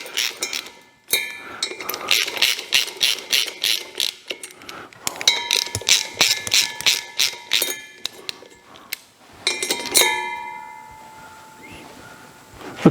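A hand ratchet fitted with a 1/2-inch socket turns bolts on an Onan 4000 watt generator, giving loud, rapid metallic clicking in several bursts with short pauses between, close by and alone.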